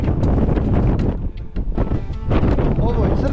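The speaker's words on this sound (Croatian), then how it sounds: "Znači, baš jak vjetar puše." Strong wind blows across the summit of Maglić mountain, loud gusts buffeting the microphone in a heavy roaring rumble that briefly eases midway before surging again.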